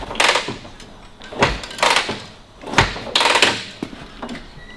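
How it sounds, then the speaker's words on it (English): A 1943 Harley-Davidson WLA motorcycle is kicked over with full choke and throttle to prime the carburettor, without firing: several heavy mechanical clunks land about a second apart, close and loud. "kick it 2 or 3 times to prime the carb"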